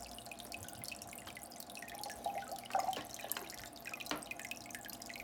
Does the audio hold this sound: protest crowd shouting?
no